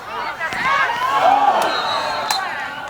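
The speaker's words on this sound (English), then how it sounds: "you hear the crowd whirl like that" Crowd at a boys' JV lacrosse game roaring and whooping in a sustained swell over about three seconds, with a few sharp shouts rising above the steady cheer.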